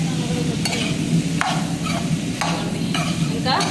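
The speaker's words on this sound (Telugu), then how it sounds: "కలిపేసుకొని సిమ్లో పెట్టేసుకుంటే బాగా వేగిపోతాయి" Continuous sizzling of a ridge gourd chutney mixture frying in a pan, with a spoon or spatula scraping and stirring in several distinct strokes, close up.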